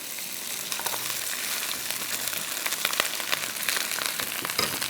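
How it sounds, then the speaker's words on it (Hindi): Cumin seeds crackle and sizzle in hot oil for a rice tempering, a steady hiss with sharp pops and spatters close up. "इसकी जो छींटें निकल रही है ना तो समझें कि बस ये तड़का ना तैयार हो गया है"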